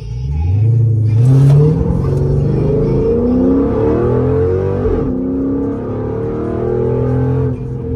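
A Dodge Charger SRT8 launches hard on a 0-60 run, its engine roaring and climbing through the gears in loud, close sweeps with brief dips at each shift, and no talk over it.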